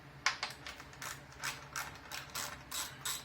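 Ratchet wrench clicking in short bursts while loosening bolts during a 50-hour service on an MT125 tractor, a rapid series of close, crisp ratcheting strokes repeated in rhythmic pulses, alone without talk.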